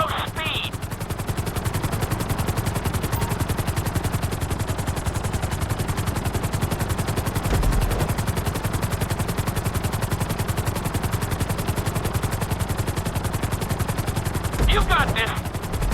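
Helicopter in the game GTA V flying a marked training course, its steady rotor thrum loud and continuous throughout, with brief bursts of gunfire-like crackle near the start and end.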